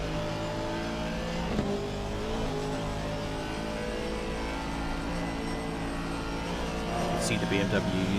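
A BMW race car at full revs in a racing video game on the Nordschleife circuit, a steady droning engine under continuous commentary, engine note shifting as it drives.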